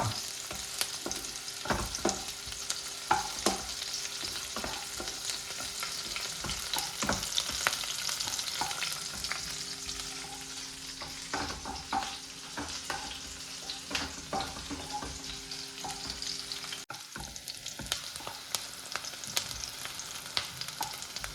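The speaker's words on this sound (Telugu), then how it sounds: "ఉల్లిగడ్డ వేసుకున్న తర్వాత ఇది కూడా వేయించుకోవాలా? కొంచెం ఎర్రగేటట్టు చూసుకోవాలా" Onions frying in a pan and turning reddish, a steady sizzle with frequent stirring clicks and scrapes, continuous and close, with no talking.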